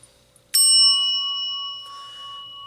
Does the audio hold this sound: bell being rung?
yes